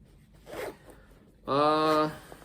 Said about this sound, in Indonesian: Semuanya dengan zipper atau resleting YKK yang kecil dengan ada tali kecil seperti ini.